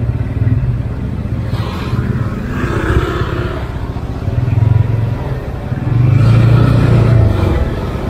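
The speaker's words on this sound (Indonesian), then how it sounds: "Sore ini arus lalu lintas di Denpasar terpantau cukup ramai" Busy evening road traffic in Denpasar, with a steady, close wash of car and motorcycle engines that swells as vehicles rev and pass nearby, loudest near the end.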